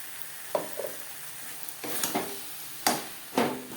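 Chicken and biscuit crumbs are stirred in a pan: a few distinct scraping strokes of a spoon against the pan, spaced irregularly over a faint, steady sizzle, with no talking.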